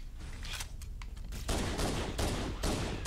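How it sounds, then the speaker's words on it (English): Rapid automatic gunfire in Halo: Combat Evolved, with dense bursts of shots, near and loud, filling the scene in overlapping volleys with no speech. "Okay, stop shooting at me."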